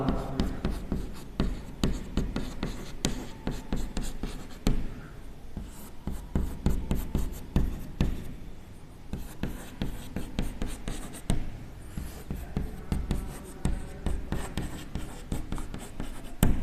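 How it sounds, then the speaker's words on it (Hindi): Chemical formulas for soap being chalked onto a board, a steady run of scratchy, tapping strokes lasting throughout with brief pauses, close and fairly loud, with no talking. "3 फार्मूले में लिख रहा हूं"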